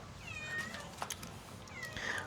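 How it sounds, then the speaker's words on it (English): A cat meows twice, a pair of short rising calls with a brief pause between, close by in a quiet indoor room. "Why are you meowing?"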